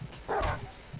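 A dog in the survival game 7 Days to Die gives a single short bark, faint and somewhat distant, with no speech.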